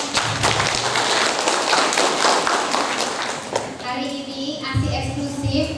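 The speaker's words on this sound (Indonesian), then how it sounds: "Tepuk tangan dong." Scattered clapping from an audience at a community health education session on exclusive breastfeeding, brisk and moderately close, with voices and chatter overlapping as the clapping fades into talk.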